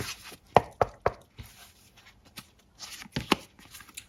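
Tarot cards are shuffled and drawn during a weekly Aquarius reading, giving a few sharp card snaps and riffles in a quiet room, with soft handling rustle between them.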